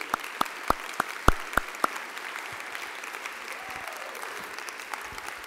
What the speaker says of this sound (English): I'd like to have all my board stand up so we can clap for them